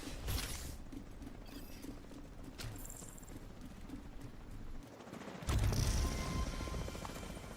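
In The Division 2, an extraction helicopter's rotors keep up a continuous, dense chop, with a louder whooshing surge near the end and no talk.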